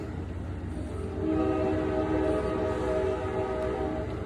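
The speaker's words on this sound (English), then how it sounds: "This is the train, it's the Palmetto" An Amtrak Palmetto passenger train rumbles past, loud and continuous, with a low rolling roar and sustained horn-like tones swelling slightly in the middle.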